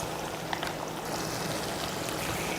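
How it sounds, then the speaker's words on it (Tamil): Egg kurma curry with added water bubbling in a pot, a steady close hiss of boiling liquid with small pops throughout, no voices. "இப்போ தண்ணி சேர்த்து நல்லா கொதிக்க ஆரம்பிச்சிருச்சு."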